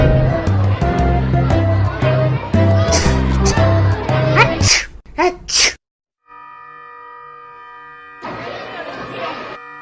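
A child's sneeze bursts out after lively children's voices and play, followed by a brief silence, a sustained electronic chime tone, and then a rush of noise.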